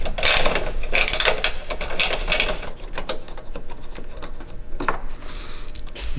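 A ratchet wrench with an extension loosens headlight bolts on a 2007-2013 GMC Sierra, giving rapid, continuous clicking bursts close by, loud at first and then steady, with no talk.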